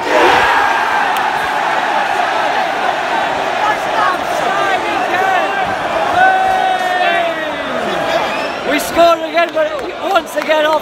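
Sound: Reading football fans chanting and cheering in the stadium

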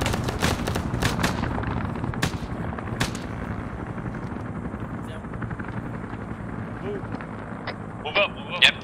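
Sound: gunfire in video game ARMA 3

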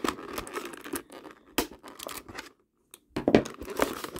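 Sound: sellotape being torn off toy packaging

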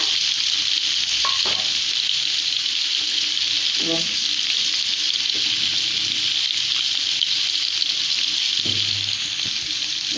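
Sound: sautéing with turmeric, salt and green chillies

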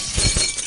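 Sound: glass breaking in the video game Happy Wheels

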